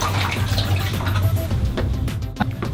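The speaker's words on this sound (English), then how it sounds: "you can actually see the product flowing into the dispenser" Cleaning product running into a dilution control dispenser at the push of a button, a steady close watery rush and trickle with a low hum beneath, ending in a brief splash.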